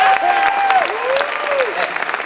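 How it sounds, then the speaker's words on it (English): An audience at a college convocation gives steady applause throughout, with a tonal musical or whistle-like line gliding over the clapping. "let's give them a round of applause already for what they've done"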